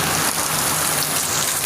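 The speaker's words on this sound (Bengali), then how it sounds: "বৃষ্টি ভালো বৃষ্টি হচ্ছে" Heavy rain pours down at Cox's Bazar, a dense, loud, unbroken hiss of drops striking surfaces, with no voices.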